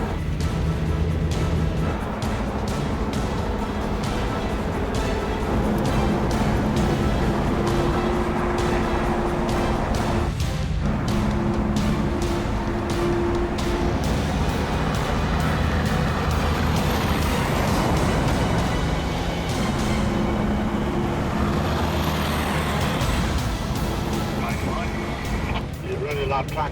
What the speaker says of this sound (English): As he pulls out, he's trusting his life to his truck.